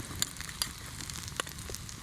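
Polenta fries in a pan over a Petromax Fire Kettle alcohol stove outdoors, giving a faint, steady sizzle with a few soft crackles and pops.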